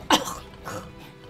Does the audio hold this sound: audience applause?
no